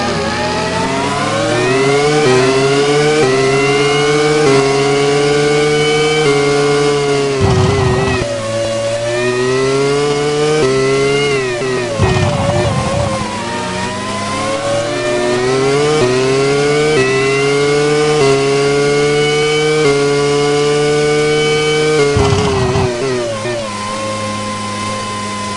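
Onboard with Juan Pablo Montoya in a 2002 Formula 1 car at the European Grand Prix: a loud, screaming engine rises through the gears again and again, with sharp drops at each shift and under braking.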